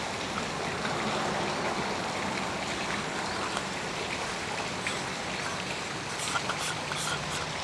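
A normal river flows in a steady, broadband rush, constant and moderately near, with no voices over it.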